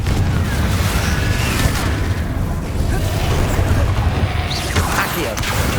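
Confringo blasting spell explosions in Hogwarts Legacy, heavy booming bursts over dense low rumble amid chaotic combat noise, with a voice speaking over the action.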